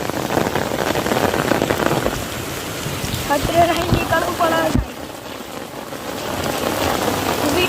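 Heavy rain pours down steadily on a surface, broadband and loud, with a voice speaking over it early on and a brief dip in the downpour midway.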